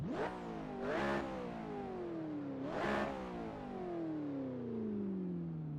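An unmuffled track car from the Ready to Race DLC in the video game Assetto Corsa revs up sharply twice, then its raw, harmonic-rich engine note sweeps slowly downward, close and alone.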